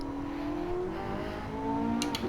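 Porsche 918 Spyder '13 hypercar with an 887 hp hybrid V8 driven in Gran Turismo 7 at the Nürburgring, its engine holding a steady, loud rising drone with two sharp crackles near the end, no talk.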